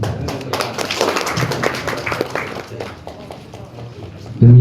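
Applause at a neighborhood handover ceremony, where one residents' association head passes the post to another, comes as a loud, close burst of hand clapping mixed with background chatter before fading and ending in a sudden low thump.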